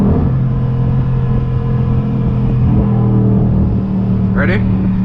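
A 2019 Dodge Durango SRT engine pulls hard in second gear, a steady loud low drone with firm rumble throughout, close and continuous inside the cabin, briefly joined near the end by a short rising chirp.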